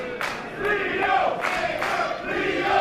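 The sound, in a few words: wrestling crowd cheering in Brooklyn, New York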